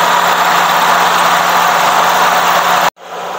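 A 1995 Toyota Great Corolla engine idling with the microphone held close, a loud, steady, even drone that cuts out abruptly for a moment near the end and then resumes.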